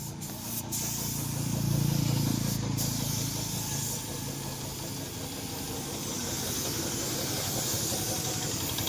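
Steady hissing spray of oil being applied to a freshly washed John Deere 5050D GearPro 4WD tractor, a continuous close, loud jet with a slight swell around the second second and no voices.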